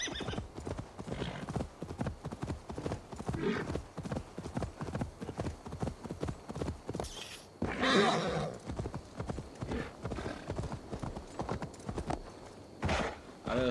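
Steady clip-clop of horse hooves at a quick rhythm in the video game Assassin's Creed Valhalla, with a whinny partway through, over faint background noise.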